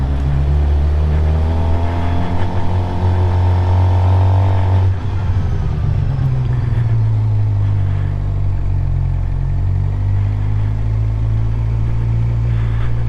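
Motorcycle engine hums steadily and loudly at close range as a beginner rider eases the bike through a gentle left turn, the tone shifting slightly midway with no talk over it.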